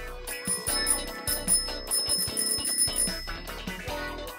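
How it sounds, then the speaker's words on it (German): A bicycle bell rings repeatedly in quick bright trills, with ringing tones that sound several times over a faint background. "Ich habe diese Klingel gehört."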